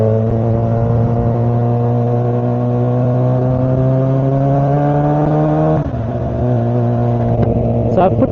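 Kawasaki ZX4R motorcycle engine droning steadily while riding, its pitch climbing slowly through a long pull before dropping at a shift and revving up again, heard close from a helmet POV with wind rush.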